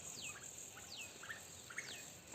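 Birds in a banyan tree in a village give several faint, quick descending chirps over a low steady hiss of background noise.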